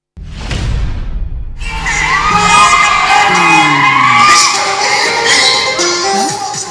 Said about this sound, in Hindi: सैकड़ों की भीड़, गानों के बोल पर झूमते लोग।